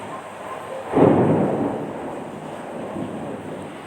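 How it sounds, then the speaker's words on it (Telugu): Thunder outside during rain gives one deep rolling rumble that swells suddenly and slowly fades, heard from a distance over a constant background hiss. "పెద్ద పెద్దగా ఉరుముతున్నాయండి"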